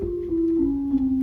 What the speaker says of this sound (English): And a 2-foot flute.